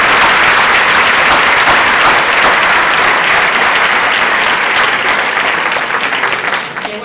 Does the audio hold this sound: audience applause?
yes